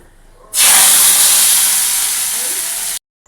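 A hot tadka of mustard seeds and curry leaves lands on kadhi pakora with a sudden loud hiss, sizzling strongly and steadily for about two and a half seconds before cutting off sharply, with silence around it.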